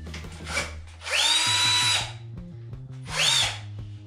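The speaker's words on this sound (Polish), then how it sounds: "Testujemy, jedną wkręcimy, zobaczymy. O, fajne. O, standardowo na wkrętareczkę." A cordless screwdriver driving 25 mm drywall screws, two loud close whirring bursts with motor pitch shifting as each screw bites, separated by a short pause with light handling noise.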